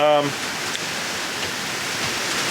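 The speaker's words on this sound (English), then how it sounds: "As you can hear, it's raining. It's getting heavier as well." Steady rain hisses as a constant broadband wash, fairly loud and close, after a brief tonal blip at the very start.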